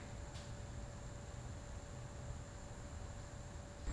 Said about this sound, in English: And this is the sound of the fan.